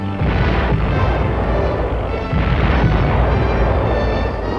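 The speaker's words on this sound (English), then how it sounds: "Looking for an all-out assault by the Reds, the UN artillery keeps right on tossing them in." UN artillery guns fire during the 1951 Korean War front, captured on newsreel: two heavy, rumbling booms about two seconds apart roll into a dense, continuous roar.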